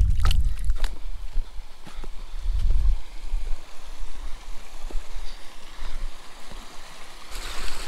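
A small mountain creek near lakes trickles and gurgles steadily, close by, with a few heavy thumps and handling bumps near the start.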